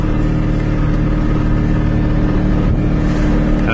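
A GM EV1 electric car drives along with a steady, even hum and broadband road and wind noise, no rising or falling engine note, and no talking.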